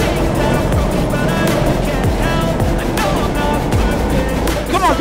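Go-karts racing around a kart track, a loud continuous engine drone with shifting pitch and revving from passing karts, heard close throughout.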